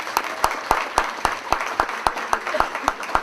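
Audience applause at a political candidates forum after a conservative campaign line, a brief patch of scattered, rhythmic clapping with distinct individual hand claps.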